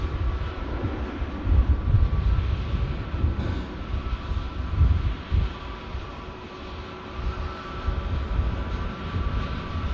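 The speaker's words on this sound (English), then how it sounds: "it's definitely blowing a gale" Strong gale wind gusting across Manchester Airport, a dense continuous low roar that surges and eases in waves, with a faint steady mechanical hum from airport machinery underneath; no voices.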